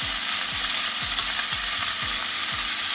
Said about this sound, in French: Je verse mes poireaux que je viens de laver. Alors ça gicle un peu parce que l'eau et l'huile, bien sûr, forcément, ça gicle.